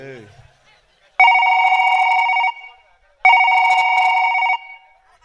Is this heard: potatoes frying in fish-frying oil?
no